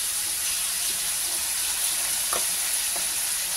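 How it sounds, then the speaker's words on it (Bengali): Aloo posto, potatoes with poppy seeds, fry in a pan with a loud continuous sizzle and a couple of faint clinks from stirring, no one speaking. "এইদিকে পোস্তর আলুটা ভাজি"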